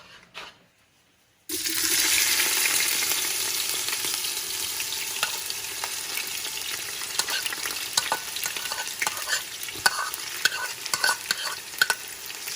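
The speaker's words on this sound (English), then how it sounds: "now our oil should be ready. We're going to go ahead and put onions." Onions drop into hot oil in a stew pot and break into a loud, sudden sizzle after a brief quiet. The frying hiss continues close up, with scraping stirs and clinks throughout.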